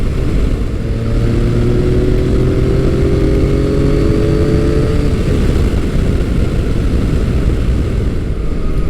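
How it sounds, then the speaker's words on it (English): A Yamaha FJ-09 motorcycle fitted with an Akrapovic exhaust cruises along countryside roads, its engine a loud, steady drone whose tone climbs and then levels off, running continuously with no talking. "FJ has an Akrapovic pipe on it, and so it's not obnoxiously loud, but it does have some nice tone when you get on it"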